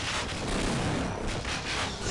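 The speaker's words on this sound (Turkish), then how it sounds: "Yanında bomba patladı." A bomb blasts in an old teleportation-themed video game, a dense, loud rumbling burst of explosive noise that fills the whole stretch with no clear pauses.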